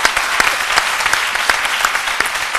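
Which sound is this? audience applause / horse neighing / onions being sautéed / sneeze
audience applause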